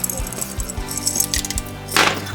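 Several whole cloves drop into a small pot holding brown sugar and water for a simple syrup, each landing as a light, sharp tick or clink in a quick uneven series, with one louder rattle near the end.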